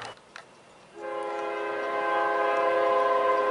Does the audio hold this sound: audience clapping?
no